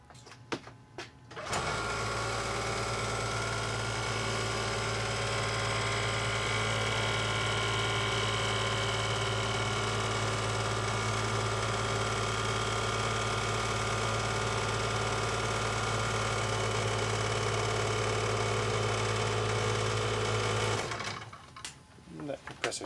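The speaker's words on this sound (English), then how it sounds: "compressor slowing down quite a bit." Air compressor for a Hampson-Linde air liquefier, fitted with a 350 psi relief valve, running at 120 volts: a loud, steady mechanical drone with a low hum and rattle that holds for about twenty seconds, then stops.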